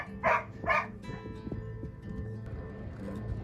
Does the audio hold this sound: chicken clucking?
no